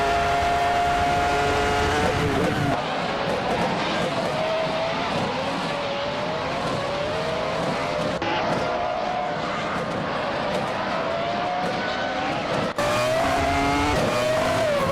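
Race cars roar continuously in a racing video game, engines whining and shifting pitch as they overtake one another, loud and dense for the whole stretch, with a brief dip near the end.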